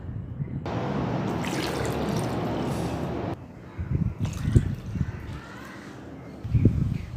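Water pours into a pressure cooker as a steady rushing stream for about three seconds, then the pouring stops and softer splashes and clunks follow, close by.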